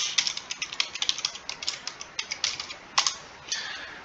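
Someone types a password on a computer keyboard, a quick irregular run of light, crisp key clicks heard up close with no talking.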